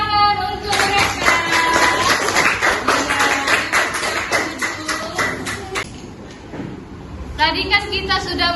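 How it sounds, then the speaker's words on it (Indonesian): Classroom clapping from a group of students: quick irregular hand claps through most of the clip, with children's voices chattering over them, then a brief lull before more voices rise. "Tepuk tangan untuk mereka."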